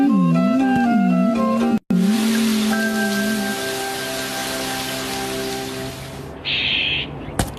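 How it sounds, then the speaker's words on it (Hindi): Rain falling in a Shinchan cartoon scene: a steady, close hiss of rain follows a brief musical tone, then fades into a softer patter before a short brighter burst near the end. "अरे वाह, बारिश भी रुक गई।"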